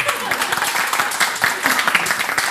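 Studio audience applause at a Greek television show, a steady wash of many hands clapping that fills the space for a couple of seconds, with faint voices mixed in.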